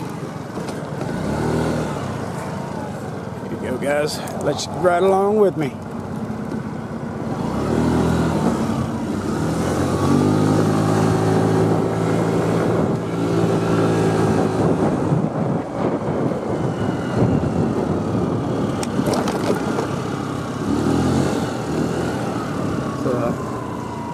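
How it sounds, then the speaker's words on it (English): A small scooter starts up and rides off, its engine revving and droning under heavy wind buffeting, with someone talking over the ride. "Fire up my little scooter here."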